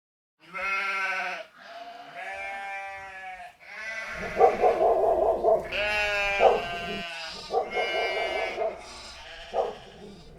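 Sheep in a livestock pen bleat at night in a series of long, wavering, overlapping calls, some loud and close, with short pauses between bursts.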